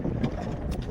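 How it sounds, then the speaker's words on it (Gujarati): Strong wind at sea buffets the microphone during a cuttlefish fishing trip on a boat, a steady low roar with a faint engine rumble beneath, continuous and close. "હવા ફૂલ વધી ગઈ છે"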